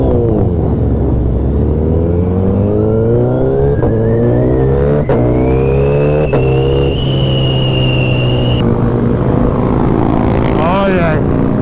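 A powerful motorcycle engine runs loud and close, its revving pitch climbing steadily and holding high for several seconds before settling, a continuous roar lasting about eleven seconds.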